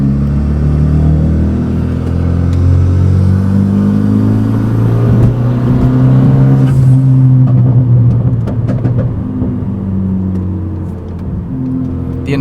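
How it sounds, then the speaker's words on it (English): Renault Megane RS engine drones and rises in pitch under acceleration, with a throaty intake whoosh and a few gear-change dips, loud and close throughout. "The induction noises you get from this car are incredible."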